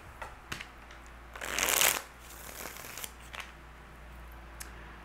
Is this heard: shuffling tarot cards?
yes